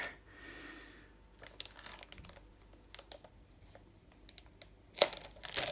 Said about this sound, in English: I think I'm just going to go straight for the scissors